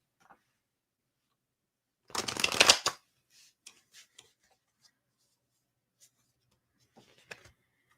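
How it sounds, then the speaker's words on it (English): Tarot cards get a close, brisk shuffle lasting under a second, then a handful of faint taps and clicks as the deck settles in a quiet room. "This is my final shuffle before I pull a card for the week."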